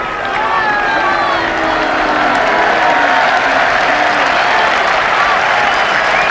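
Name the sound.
cricket crowd applauding the 50 partnership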